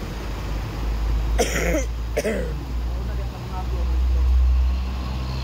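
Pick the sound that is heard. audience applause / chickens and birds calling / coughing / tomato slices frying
coughing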